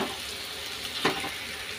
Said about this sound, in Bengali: এখন দিয়ে দেবো আলুটা, সেদ্ধ করে রেখে ম্যাশ করে রেখেছি